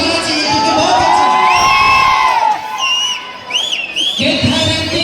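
A live stage audience cheers for the writer with loud shouts, whoops and shrill whistles from a large crowd, sustained and close, rising in bursts.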